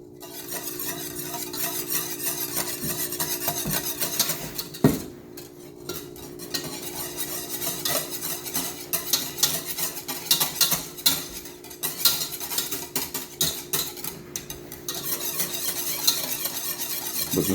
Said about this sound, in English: So this can take up to 20 minutes of just consistent stirring.